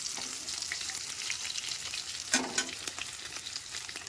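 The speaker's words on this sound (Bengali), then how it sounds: "যেহেতু মাছটা আর একটু আমি নেড়ে চেড়ে ভাজবো, তার মানে পাঁচ ফোড়নগুলোও আমার ভাজা হয়ে যাবে।" Snakehead fish frying in hot oil with panch phoron being stirred in, a steady close crackling sizzle with a couple of louder spatters and utensil scrapes near the middle.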